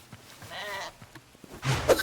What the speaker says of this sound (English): I don't know how many times we've killed this sheep